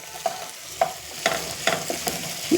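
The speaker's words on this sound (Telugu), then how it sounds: "అల్లం వెల్లుల్లి పేస్ట్ వేగుతుంటే ఆ గుమ్మగుమ్మలే వేరు కదా" Ginger garlic paste frying in a pan, heard as a close background sizzle with about six sharp utensil scrapes and taps spaced roughly half a second apart, no talking.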